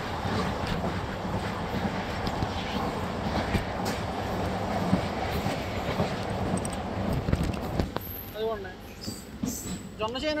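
A Guntur–Repalle MEMU express train races along at speed, its steady broadband rumble and rattle mixed with wind buffeting the microphone; near the end a brief voice rises over the running noise.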